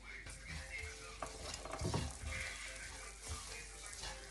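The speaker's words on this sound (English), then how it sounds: "Just saute that. I'm gonna add 1 cup coconut. Keep saute on slow flame." Semolina is stirred and sautéed on a slow flame in a pan for an Indian sweet, a soft, steady sizzle with occasional scraping strokes of the spoon, faint and close with no talking.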